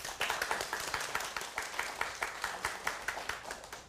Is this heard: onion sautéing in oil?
no